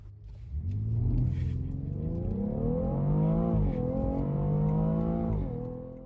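A close engine roars as a 2018 BMW X3 M40i SUV launches hard, the pitch rising steadily and dropping briefly at each gear shift before climbing again, with audible breathing.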